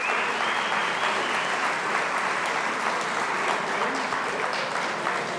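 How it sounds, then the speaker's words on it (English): A standing audience at a foundation tribute event gives a round of applause, dense steady clapping from many hands that fills the room without letup. "If everybody will just stand really quick for a round of applause."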